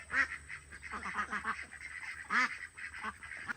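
Farm ducks quack repeatedly and close by in an irregular, overlapping chatter of calls, with a louder burst near the end and no talking.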